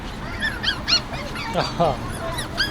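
Several dogs whimper and yip in short, high-pitched bursts, fairly close, at a street market in Chișinău, Moldova, with a busy background of voices and street noise.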